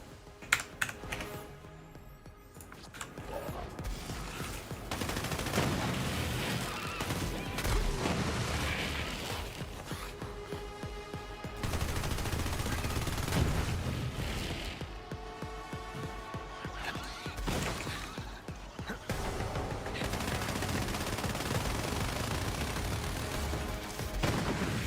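Weapon fire in Borderlands 3, including a cannon, comes as dense bursts of game gunfire and booms, with rapid crackling volleys that continue through most of the stretch, loud and busy with no talk over it.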